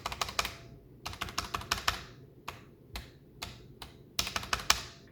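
Someone types on a Womier WK61 hotswap mechanical keyboard with a faint metallic ping, giving quick bursts of clacky keystrokes split by short pauses, close and fairly quiet, with no voices.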